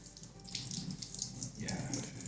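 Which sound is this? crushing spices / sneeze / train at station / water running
water running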